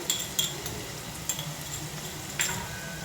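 Green chili, shallot, mint and coriander paste sautéing in hot oil in a pan, a steady close sizzle with a few clinks and scrapes of a spoon stirring, no voices.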